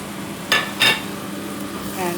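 Beans curry with chopped tomato and fresh coriander is stirred in a pan over a medium flame, two scraping strokes of the spoon standing out over a steady low sizzle.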